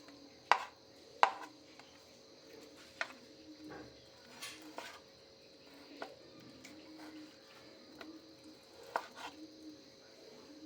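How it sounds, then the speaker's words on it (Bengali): Chicken being chopped into small pieces with a knife for a potato chicken kebab: sharp, irregular knife strikes on a board, a few louder than the rest, against a quiet kitchen background. "এখানে দেখুন আমি আস্তে আস্তে টুকরো টুকরো সাইজ করে নিচ্ছি"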